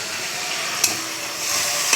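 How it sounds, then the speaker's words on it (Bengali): Potatoes being sautéed and stirred in a pan, giving a steady close sizzle with brief scraping clinks of the utensil, and no voices. "আলুটাকে কষিয়ে নিচ্ছি"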